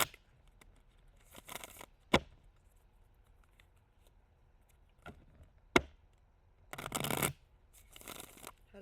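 Tarot cards are shuffled in short, papery riffling bursts, separated by quiet gaps and a couple of sharp taps, heard close and fairly soft.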